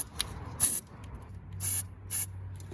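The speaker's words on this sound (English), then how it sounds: "All right, let's go ahead and spray it." Freeze Off penetrating spray is aimed at bolts on a Honda Accord, heard as three short, close hissing bursts from the aerosol can separated by brief pauses.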